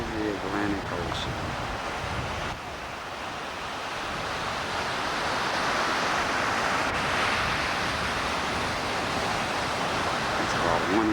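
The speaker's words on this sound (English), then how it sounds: "This is the Atlantic Ocean." Steady roar of Atlantic Ocean waves and wind on the shore at Gorée Island, broadband surf wash that builds slightly and holds, with a brief voice near the start.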